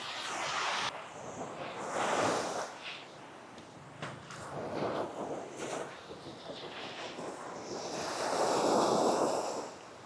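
Sea waves at Cha-am beach in Thailand, broad washes of surf rising and falling in loud swells with heavy wind buffeting the microphone.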